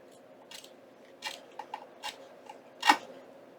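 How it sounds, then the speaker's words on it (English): Scissors trim small paper pieces for a junk journal, a handful of separate crisp snips spread over a few seconds, the last one loudest, in a quiet room with no talking. "So I'm going to go ahead and just trim them."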